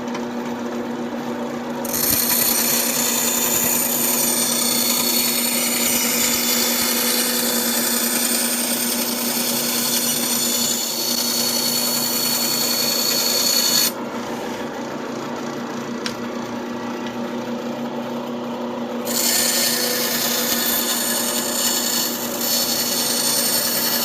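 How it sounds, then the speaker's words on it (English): A bandsaw running steadily and roughly squaring off a block of wood for turning, with a constant motor hum under a continuous, loud rasping cut that eases briefly in the middle before resuming. "I'm just going to click the bandsaw on, and quickly cut that"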